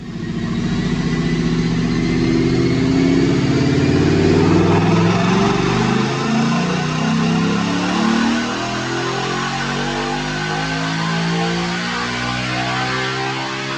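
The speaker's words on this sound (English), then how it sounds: "let's go check out this dyno pull" A 2020 Mustang GT with a naturally aspirated Comp Cams Stage 2 build roars steadily on a DynoJet dyno, its loud engine holding a sustained wide-open pull with rising harmonic tones and gradually easing toward the end.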